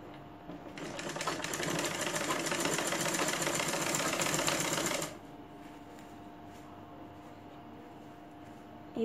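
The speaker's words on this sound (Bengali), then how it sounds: "বরাবর আমি সেলাই দিয়ে নিচ্ছি" Sewing machine stitching a gown seam, running in a loud, steady mechanical whir for about four seconds before stopping, leaving a low quiet room hum.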